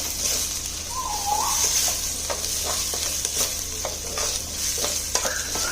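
Sliced onions frying in a hot pan, a steady bright sizzle running throughout, with occasional stirring scrapes and clicks and a faint bird cooing in the background.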